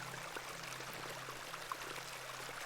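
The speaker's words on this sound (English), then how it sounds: "I do enjoy the charm of a babbling beck." Babbling beck ambience in the game The Excavation of Hob's Barrow, a quiet, steady trickle of running water with faint low hum underneath, continuous and alone.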